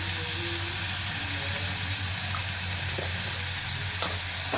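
Steady frying sizzle of grated coconut kosambari being mixed in a pan with salt and turmeric, a continuous hiss with faint scrapes of stirring throughout.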